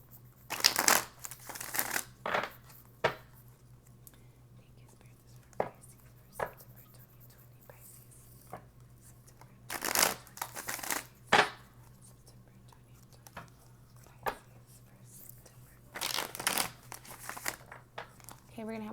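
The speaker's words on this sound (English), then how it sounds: "we're going to have one more shuffle and we'll get started." Tarot cards being shuffled by hand in a quiet room, with bursts of riffling and crisp card-on-card slaps spaced across the stretch and softer taps between them, close and fairly faint, and no talking.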